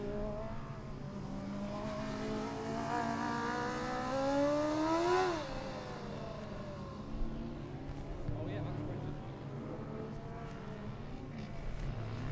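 Formula Student race cars lapping an endurance track: an engine climbs in revs and peaks sharply as a car passes close by, then fades, with steady track noise and a voice talking beneath.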